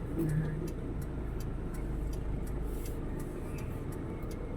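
Steady low rumble of idling and creeping cars in bumper-to-bumper traffic heading to SM Mall Lipa City, a dense continuous drone with faint ticks and no clear voices.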